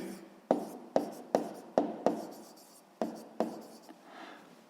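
Pen writing on paper while working a sixth-grade math exercise: a close series of sharp, evenly spaced strokes and taps with brief scratching between them, quiet and without talk.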